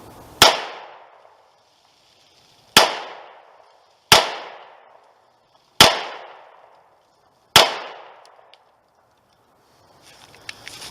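Five sharp, loud gunshots from a Remington R51 pistol fired on an outdoor range, spaced irregularly a second or two apart, each with a short decaying tail, and no voices.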